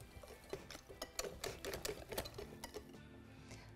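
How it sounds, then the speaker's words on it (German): Ingredients including white vinegar and peanut oil are stirred into a smooth vegan batter, giving a rapid series of close, clicking and scraping strokes in an uneven rhythm, with no talk over them. "Und dann verrühre ich alles zu einem glatten Teig."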